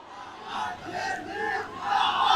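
A crowd shouts together in loud, swelling collective cries, rising and falling in waves.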